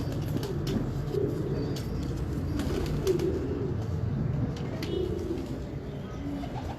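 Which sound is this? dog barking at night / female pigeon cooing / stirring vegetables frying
female pigeon cooing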